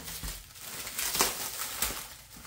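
Plastic wrapping on a frozen pizza crinkles and crackles close by as it is pulled open, with a few sharp tearing bursts and no talking.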